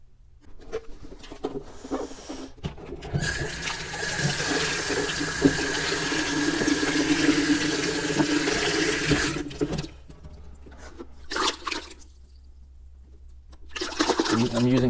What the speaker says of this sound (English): I'm using hot water here.